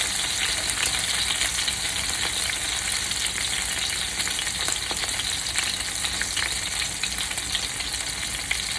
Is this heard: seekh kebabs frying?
yes